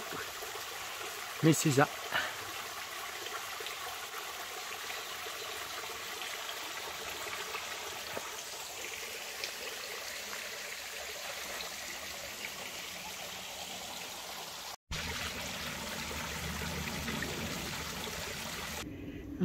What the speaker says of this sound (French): Et voici la chute d'eau. Bon, c'est vrai que c'est pas très impressionnant parce qu'il y a peu d'eau.